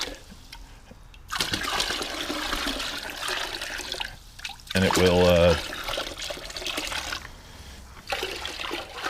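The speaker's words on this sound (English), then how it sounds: "So I just add a little bit more water." Water is poured from a container into a bucket of salt water, a steady splashing pour lasting several seconds, with a person talking briefly around it.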